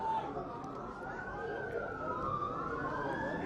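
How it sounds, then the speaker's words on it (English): An ambulance siren passes along One Tree Hill Road beside an amateur football match, its wailing tone rising and falling clearly over the crowd noise, with commentary talk underneath. "ambulance screams by on One Tree Hill Road"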